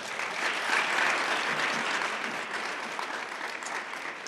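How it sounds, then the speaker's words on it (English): A crowd at a business honor society induction gives a guest one more round of applause, a continuous dense clapping at moderate loudness throughout, with no speech over it. "Let's all give him one more round of applause for coming today."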